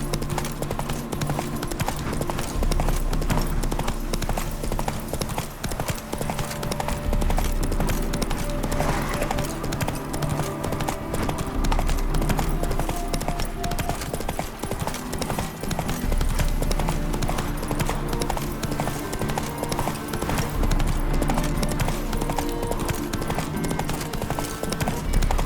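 Steady galloping hoofbeats from Roach, the horse in The Witcher 3: Wild Hunt, drum on continuously for the whole stretch, loud and rhythmic over a layer of background game music.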